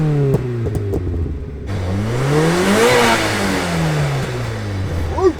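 A supercharged Mazda Miata MX5 engine revs up and back down in a smooth rising-and-falling sweep, loud and close, with supercharger whine and a final short blip.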